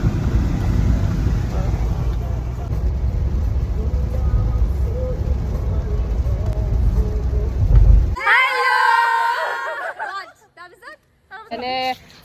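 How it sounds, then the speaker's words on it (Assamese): Steady rain pours down as a dense, loud hiss for about eight seconds, with low rumbling underneath, before it cuts abruptly to quieter, patchy sounds and a voice. "বৰষুণ দি আছে চব"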